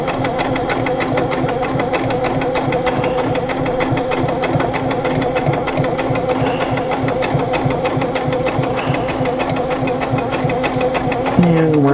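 A sewing machine runs quickly and steadily while stitching a fabric glasses case, a close, even motor whir that lasts throughout with no pauses.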